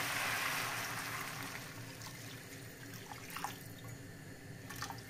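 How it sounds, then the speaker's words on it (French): Water pours steadily into a reducing cream sauce for a two-fish cassolette, a continuous close splashing stream with a few brighter drips and no talk. "Je rajoute de l'eau."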